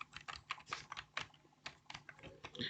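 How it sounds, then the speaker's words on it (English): Typing on a computer keyboard, a quick irregular run of soft key clicks up close in a quiet room. "I go to search bar and I type VirtualBox"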